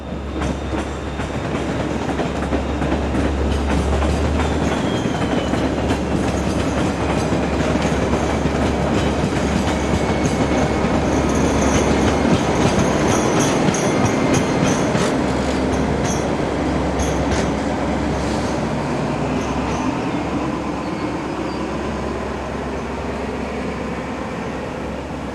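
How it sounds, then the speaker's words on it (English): BB26000 diesel locomotive hauling a local train on the coastal line via Fos-sur-Mer, passing with a sustained loud rumble, rhythmic clickety-clack of wheels over rail joints and faint squeals, no voices. "Local services on the coastal line via Fos-sur-Mer are diesel operated using BB26000 locomotives."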